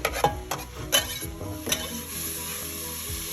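Onion sizzling in a pan with salami, fried over high heat while being stirred, giving several sharp scraping clatters at first, then a steady soft hiss, close up.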